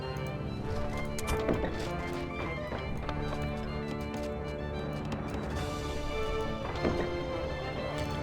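Horse nomad cavalry hooves clatter in a steady, dense clip-clop within the real-time strategy game Rise of Nations, layered over busy battle noise and music at a constant loudness.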